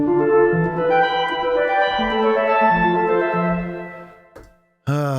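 A sustained synth chord with plugin reverb rings out with a washy, reverberant tail that fades away, followed by a brief swelling tone at the end.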